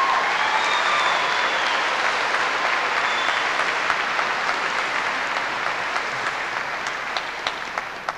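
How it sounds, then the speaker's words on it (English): Sustained applause at a high school graduation ceremony honoring the Board of Education, a dense crowd clapping steadily that gradually thins and fades toward the end, leaving scattered individual claps. "Let's give the Board of Education a nice round of applause."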